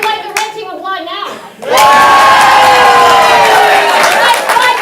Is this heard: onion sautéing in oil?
no